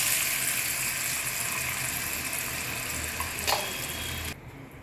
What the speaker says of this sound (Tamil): இந்த ஸ்டேஜில் நம்ம புளி தண்ணி ஆட் பண்ணிடலாம்.